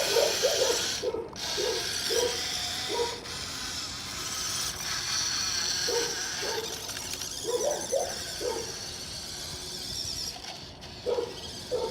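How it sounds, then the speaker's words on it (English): Steering servo of a cheap WPL-C 1/16 scale RC crawler on a driveway, heard as loud, close, repeated ratcheting buzzes in quick clusters. Faint bird chirps sound in the background. "So the steering is obnoxiously loud."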